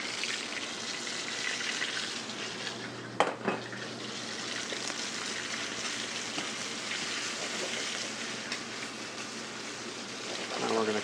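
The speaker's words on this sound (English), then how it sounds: "The crabs are cooked in a preheated cast iron skillet with a 1/2 inch of canola oil" Crab frying in about half an inch of canola oil in a preheated cast iron skillet, a steady loud sizzle and crackle with one sharp pop partway through, continuous throughout.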